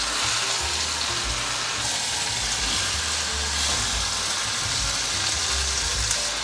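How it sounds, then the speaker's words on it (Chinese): Bitter melon and pineapple with ginger sizzling loudly as they are stir-fried in a hot pan, a dense continuous frying hiss with occasional stirring scrapes close to the microphone. "稍微拌炒一下。"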